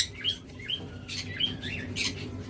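Yellow Fischer's lovebirds give short, sharp chirps and squeaky calls, several brief notes spaced irregularly, fairly close against a faint background hum.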